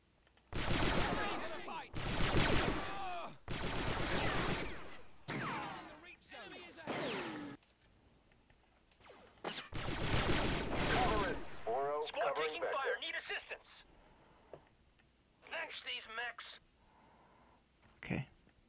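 Gunfire in the World War II strategy game Men of War: loud bursts of rapid rifle and machine-gun fire come in several close volleys separated by pauses, with someone talking during the quieter gaps.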